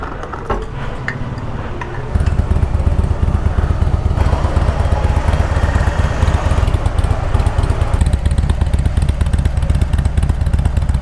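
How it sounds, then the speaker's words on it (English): Motorcycle engine starting up and then idling with a loud, steady, close thumping beat through the exhaust silencers, heard alone without talk. "Love the thump of the engine, the thump of the silencers."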